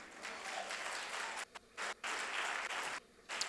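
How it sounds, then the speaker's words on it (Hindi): A congregation at a Hindi-language church service claps, with soft, fairly distant applause interrupted by a few brief pauses over a few seconds. "ताली नहीं बजाएंगे?"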